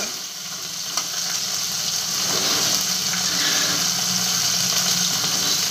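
Tomato and coriander sizzle loudly in hot oil, a dense, steady frying hiss that carries on unbroken from start to finish.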